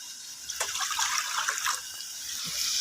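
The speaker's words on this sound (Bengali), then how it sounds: "এখন আমি একটু পানি দিয়ে দেব" Water splashes and trickles into a cooking pot of local chicken curry for a few seconds, a steady close pour with no one talking.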